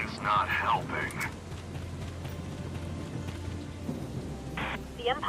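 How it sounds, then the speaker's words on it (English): Steady rain with low rumbling thunder fills a stormy battlefield scene in the video game Valkyria Chronicles 4, continuous and moderately loud beneath brief bursts of character voices. "What a terrible storm."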